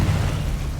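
Blasting spell cast in Hogwarts Legacy, a short, dense booming burst with heavy low rumble that stays loud for under a second, no talking over it.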